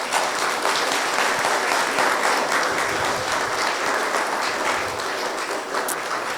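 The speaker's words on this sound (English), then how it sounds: "Let's give them a round of applause for being here." An audience at a ribbon-cutting ceremony in DeKalb County gives steady, dense applause that holds for several seconds, close and loud, with no speech over it.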